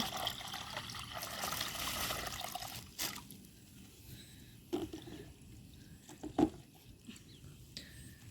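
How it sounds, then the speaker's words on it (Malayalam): A second litre of water pours steadily into a container for about three seconds, then tapers to trickles and a few soft clunks and drips. "ഇത് 2ാമത്തെ ലിറ്റർ വെള്ളം ഒഴിക്കണേ"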